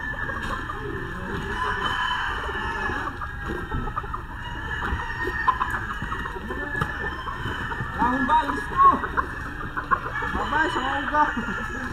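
White Kelso gamecock chickens cluck and stir close by through a steady outdoor background, with someone talking over them almost throughout.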